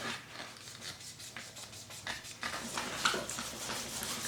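Sanding pad rubbing back and forth over the resin portion of a wooden spoon, a soft, close, rhythmic scratchy swish in steady strokes, fairly quiet with no voices.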